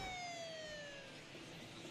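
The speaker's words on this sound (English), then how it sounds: "Sound the sirens, baby." A siren sound effect in a baseball video game wails in a falling tone, fairly quiet and steady, with no talk over it.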